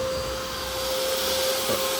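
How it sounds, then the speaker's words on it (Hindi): A vacuum cleaner running inside a car at a car wash, giving a steady, loud motor whine with a constant hum and no pauses. "अंदर से वैक्यूम शैक्यूम लगा रहा है"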